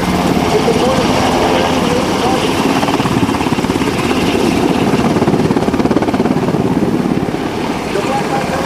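A Black Hawk helicopter thunders loudly and continuously with rapid rotor chopping throughout at an airshow, and a voice speaks over the din.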